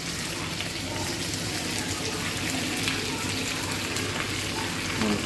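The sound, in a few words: onion, garlic and green chilli frying in a pan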